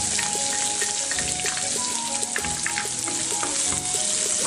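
Chopped onion, green chilli and cumin seeds fry in hot oil in a pan, making a dense, continuous crackling sizzle with occasional stirring clinks, close and steady throughout.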